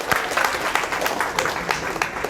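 Applause from an audience at a career counseling session, a fairly dense patter of clapping with scattered sharper claps standing out, moderately loud and continuous.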